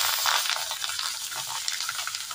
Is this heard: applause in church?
no